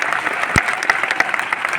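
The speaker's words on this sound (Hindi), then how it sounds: "मैं चाहूंगा एक बार जोरदार तालियां इनके लिए" Audience at a business seminar in Delhi breaking into applause, a loud, busy patter of many hands with a few sharper individual claps, a murmur of voices mixed in.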